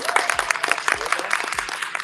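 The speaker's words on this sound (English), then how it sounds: "I hope you're also clapping at home" An audience applauding at a school Poetry Out Loud recitation event, a steady patter of many hands clapping close by, irregular and sustained, with no speech over it.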